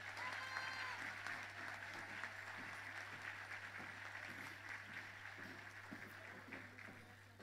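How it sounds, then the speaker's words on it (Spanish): Sustained audience applause at a municipal public accounts ceremony in Melipilla, a dense steady wash of clapping lasting throughout, moderately distant, with a constant low hum beneath and no speech. "les pedimos un fuerte aplauso."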